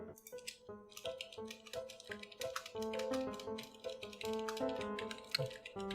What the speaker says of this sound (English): I don't know if you can hear my fingers on the keys,